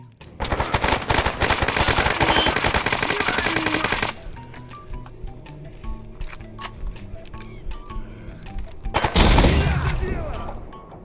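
Rapid bursts of automatic gunfire in the video game S.T.A.L.K.E.R. Anomaly, loud and dense for several seconds, then scattered single shots and clicks, before another heavy burst near the end.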